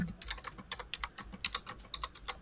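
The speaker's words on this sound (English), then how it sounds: "Now you're typing." Rapid, uneven clacking of keys on a computer keyboard, close and fairly quiet, goes on throughout with no voices.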